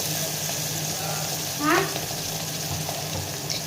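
Ground paste dropped into hot oil for anapakaya (bottle gourd) curry, giving a steady close sizzle and frying hiss throughout, with a brief louder spatter as it hits the pan.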